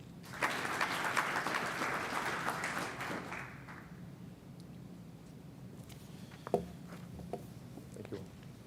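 Applause from the audience at a 2021 School of Engineering commencement rings out loudly for the graduates for about four seconds, then fades into quiet room noise with a few scattered late claps and small knocks.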